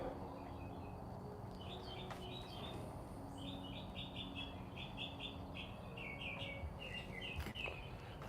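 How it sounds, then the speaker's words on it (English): Birds chirp and tweet repeatedly in quick bursts, moderately distant, over a steady outdoor background hiss. "Birds are chirping."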